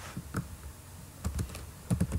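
Quick bursts of keystrokes on a computer keyboard while coding a web page, irregular clusters of close, crisp clicks separated by short pauses.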